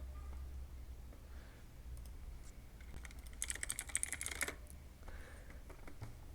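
Quick bursts of typing on a computer keyboard, soft and close, with clustered key clicks and short pauses, and no voices.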